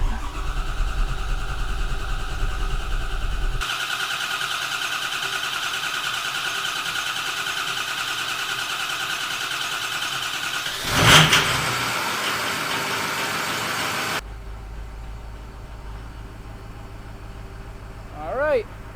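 A Ford 6.0 diesel with a compound turbo setup runs at a steady idle, a loud continuous rumble and hum, broken by a brief sharp burst partway through before the sound drops to a quieter hum.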